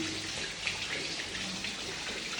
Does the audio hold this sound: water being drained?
yes